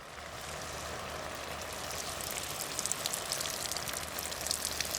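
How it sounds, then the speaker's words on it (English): Torrential rain drums steadily on a tarpaulin shelter built for field recording, a dense continuous hiss with close, heavy drops pattering over it. "I also want to note that this is quite a torrential downpour on top of the shelter."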